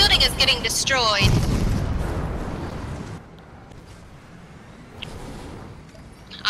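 Tank fire tears through a building in a video game: a loud boom with crumbling rumble at the start, fading into a quiet stretch, with people talking over the opening.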